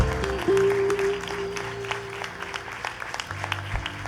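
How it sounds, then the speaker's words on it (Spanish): A church congregation applauds during a service, irregular claps from many hands spread through the room over a steady low musical drone from instruments, moderately loud and continuing for several seconds. "Denle un aplauso al Espíritu Santo"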